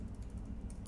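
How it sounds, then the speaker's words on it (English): Quick, light tapping on a computer keyboard, a steady run of soft key clicks close by with no voices. "we just have to type in a few key letters."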